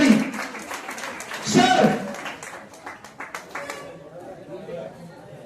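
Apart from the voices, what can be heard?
applause for director Gopi Randhare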